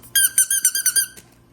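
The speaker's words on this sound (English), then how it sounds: "so I got Trump Duck and a whole bag of these little squeaky ones" Small squeaky rubber duck toys squeezed in quick succession, giving about seven sharp, high, close squeaks in an even rhythm, then quiet.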